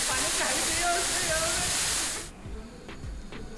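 An unexplored waterfall near Pune, on the way to Khandi waterfall, roars with a loud, close, steady rush for about two seconds before cutting to a much quieter scene with faint low rumbles and thumps.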